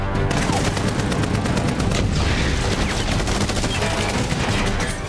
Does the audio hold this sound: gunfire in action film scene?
yes